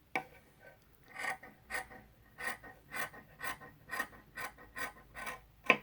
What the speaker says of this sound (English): I love a good pair of sharp scissors cutting.